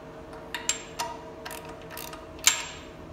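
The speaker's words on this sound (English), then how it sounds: "Go ahead and choke up on that damn wrench so you don't give it too much pressure." Faint metallic clicks and ticks of a ratcheting wrench working a bolt during a Cummins NV5600 dual disc clutch install, a handful of sharp separate clicks over a quiet hum.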